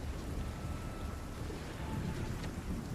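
Storm Zap thunder spell cast in Runescape Dragonwilds, heard as a steady, dense rumbling crackle like heavy rain and thunder that holds loud and unbroken throughout, with no talking.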